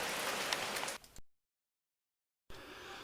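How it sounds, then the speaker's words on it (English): Heavy rain pours down in the New Forest in late July, a loud, close hiss that cuts off into a second of silence and then resumes. "Towards the end of July, we had some very heavy rain"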